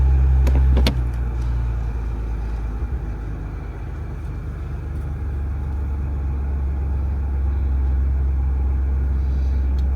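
Ford Bronco engine idling steadily, low and close, as the transmission is moved from park into neutral; a couple of brief clicks near the start, no talking.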